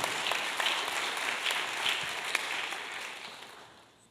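An audience applauds in a hall, a steady wash of many hands clapping at moderate distance that slowly fades out toward the end, with no voices.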